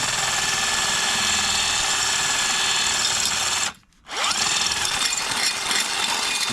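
A power drill elongates a hole in a fibreglass Greddy GRacer-style front bumper for a 1992 Nissan 300ZX (Z32), whining steadily and loud, cutting off briefly around the middle before spinning straight back up to full speed.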